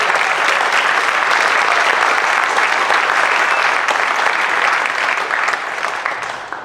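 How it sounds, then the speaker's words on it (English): Sustained applause from a crowd at a city veterans recognition ceremony honors Junior ROTC cadets and Scouts, a thick, even wash of clapping held at full strength before tapering off near the end. "Give a round of applause, please, for our Junior ROTC and our Scouts."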